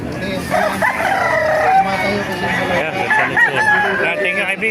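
A nine-month-old rooster crows loudly and close by, its drawn-out call sounding over a busy poultry market with other birds and a bit of background chatter.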